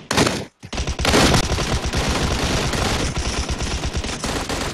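Gunfire in the mobile game PUBG Mobile: rapid, loud automatic bursts of shots in dense rattling sequences, with a brief pause near the start before a sustained volley.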